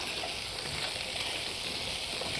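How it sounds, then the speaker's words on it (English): Franks sizzle steadily in a pot over an alcohol burner, a continuous close hiss and crackle that stays even throughout, with no talking. "There, you can really hear that sizzle now."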